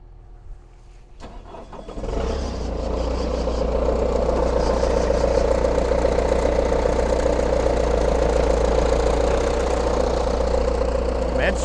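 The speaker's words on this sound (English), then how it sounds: "got the skid steer going" A skid steer loader's diesel engine cranks, catches after about two seconds, then settles into a loud, steady, rumbling idle close by. A voice speaks briefly before it starts.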